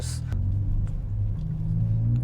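A Ford Focus ST engine rumbles steadily at low pitch while driving, a continuous close drone with slight swells, after a brief hiss at the start.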